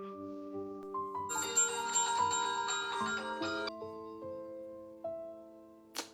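A bright electronic phone ringtone plays a repeating melodic pattern for several seconds, clear and close, ending with a short click.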